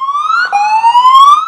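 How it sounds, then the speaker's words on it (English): Tsunami warning sirens in New Zealand wail with a single loud, clear tone that rises steadily over a second and a half, with no voices over it. "Sirens sounded across the water's edge after 3 offshore quakes in 8 hours."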